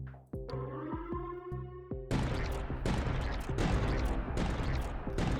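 Gun turrets open fire on an enemy wave in the strategy game Tower Dominion: a few spaced electronic blasts with ringing tones, then a dense, loud barrage of rapid overlapping shots.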